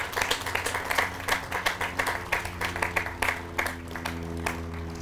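Outdoor audience applause at a Memorial Day ceremony honors a scout council band, with a modest crowd clapping in uneven, distinct bursts that thin out toward the end while steady tones hum underneath.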